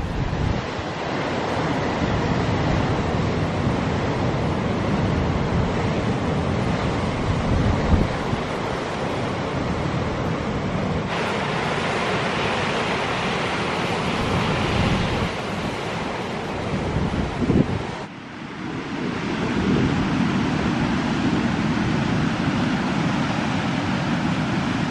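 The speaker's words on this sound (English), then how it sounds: "It's an incoming tide and the waves are quite," Waves break steadily on a blustery Cornish beach at Dollar Cove, Gunwalloe, on the Lizard Peninsula, with an incoming tide, the surf roaring continuously and close while strong wind buffets the microphone.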